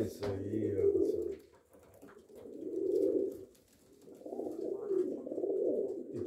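Breeding tumbler pigeons coo close by in slow, low rolling swells, three long bouts separated by brief pauses, with a soft voice heard at the start.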